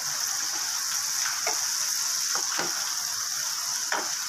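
Garlic sizzles in melted butter in a home kitchen, a constant hissing fry with a few soft crackles and stirring scrapes popping through at moderate loudness.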